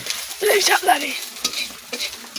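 Ginger and garlic fry and sizzle in hot oil while a utensil stirs them, with the scraping coming in short bursts. The cooking is close and moderately loud, and no one speaks.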